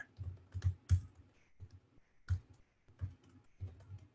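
Typing on a computer keyboard, close and fairly quiet, with irregular bursts of key clicks and short pauses between them, no talk.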